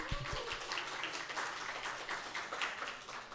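Audience applause following a speaker's story at a live talk event, a steady wash of many hands clapping at moderate distance, sustained evenly for several seconds without a clear start or end.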